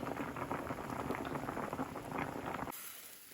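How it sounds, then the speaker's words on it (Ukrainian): Steady bubbling and hissing of water boiling in a pot of new potatoes, dense and continuous, then cutting abruptly to a quieter background near the end. "Вже картопелька в нас вариться."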